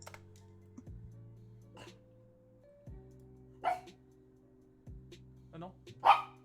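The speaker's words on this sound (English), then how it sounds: "Are you barking because there's an animal on the screen?" A dog barks in a few sharp, separate bursts spaced seconds apart over a steady low electronic hum, with some soft clicking in between.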